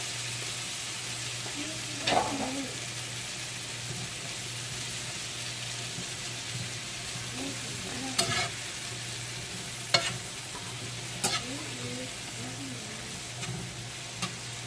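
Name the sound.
mushrooms frying in hot margarine, being stirred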